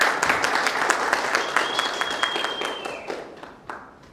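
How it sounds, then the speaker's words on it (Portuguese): An audience at a climate and social justice debate applauds a guest, a steady wash of clapping with distinct close claps, tapering off toward the end, with a faint whistle midway. "Uma salva de palmas,"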